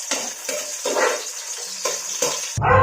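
Onion sautéing in hot oil for a Maguindanaoan goat meat sinina: a steady bright sizzle broken by rhythmic stirring and scraping strokes, ending in a brief clatter.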